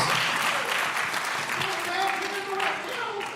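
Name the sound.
audience applause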